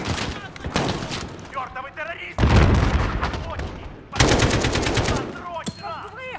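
Call of Duty MW combat: loud bursts of automatic gunfire and rifle shots crack in rapid volleys, with a heavy blast from a grenade, while a player talks excitedly over the action.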